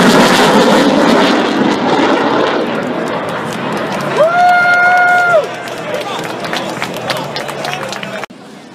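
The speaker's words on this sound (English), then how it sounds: "Watch now from the right as Captain Jute Folger sets up for the F-18 high-speed pass." An F-18 jet at a New England airshow roars loudly under a public-address voice, its engine rising into a whining tone that sweeps through mid-pass before fading back into a broad rumble.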